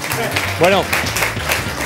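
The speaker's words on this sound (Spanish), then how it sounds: "El público os vuelve a aplaudir más fuertemente" Studio audience applause on a TV show, a continuous wash of clapping with a voice speaking briefly over it.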